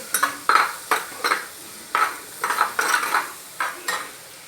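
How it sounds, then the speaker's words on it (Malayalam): A spoon stirs mutton curry in a pot just after turmeric powder goes in, giving a series of irregular metallic scrapes and clinks, close and distinct, with quiet gaps between them and no talking. "മഞ്ഞൾപ്പൊടി ഇട്ട് നന്നായിട്ട് ഇളക്കി."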